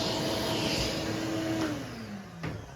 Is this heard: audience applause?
no